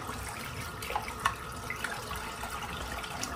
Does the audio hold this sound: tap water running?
yes